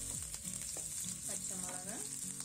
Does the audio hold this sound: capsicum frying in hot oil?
yes